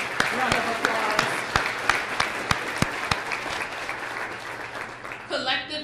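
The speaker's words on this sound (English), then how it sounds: "I think we ought to give the Workready family a round of applause." Breakfast event audience gives a round of applause, steady crowd clapping with a few sharper nearby claps standing out, fading slightly before a voice cuts in at the end.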